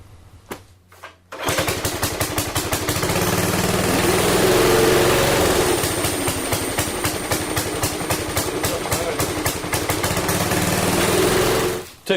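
A homemade go-kart's small engine roars to life after a few sputtering starts, then runs loud and steady at a buzzing high idle, close by, before cutting out at the end.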